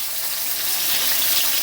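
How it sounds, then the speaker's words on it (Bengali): Rohu fish pieces frying in hot oil, a steady close hiss of sizzling with no pauses or voices throughout. "মাছগুলো আমার ভাজা হয়ে গেছে"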